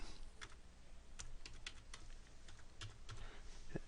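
Someone types a password on a computer keyboard, producing quiet, close, irregular key clicks over a steady background hiss, with no talking.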